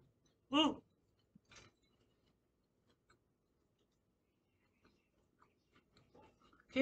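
Crunchy Korean BBQ lumpia, fried rolls filled with kimchi and barbecue, being bitten: two sharp crunches close to the mic, then faint scattered chewing clicks in a quiet room.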